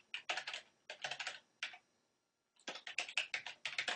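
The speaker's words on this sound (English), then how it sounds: "And you can also get there by typing in" Rapid typing on a computer keyboard as a web address is entered, with quick bursts of close, crisp key clicks separated by short pauses, no voices.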